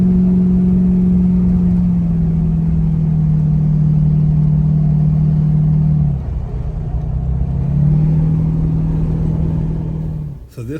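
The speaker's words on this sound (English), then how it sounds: "So this was the first real drive I took the Porsche on that had curves and turns and ups and downs and corners" A Porsche sports car drives on a winding road with curves, corners and ups and downs, its engine a loud, steady low drone that dips and rises in pitch as it eases off and accelerates through the bends.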